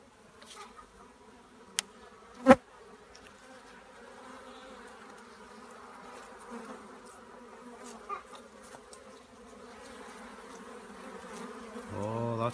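A dense, steady buzz of many honey bees close by at an open hive during a spring inspection, humming continuously, with a couple of sharp knocks near the start.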